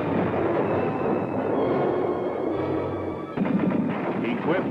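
M-60 tank firing its guns: dense, rapid bursts of gunfire over a heavy mechanical rumble, growing sharper and more distinct in the final second or so.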